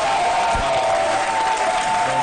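Audience applause on a Côte d'Ivoire television show, steady broadband clapping throughout, with a sustained musical tone underneath.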